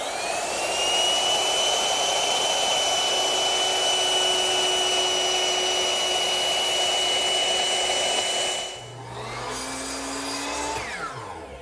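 A router cuts a decorative chamfer along the edges of wooden panels for a coffee table, making a loud, steady high-pitched motor whine that drops near the end and then winds down.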